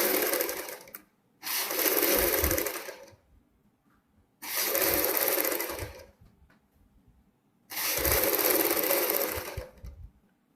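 A sewing machine runs in three bursts of about two seconds each, stitching a front V neck. Short quiet pauses separate the whirring runs, and the machine is close and clear with no talk.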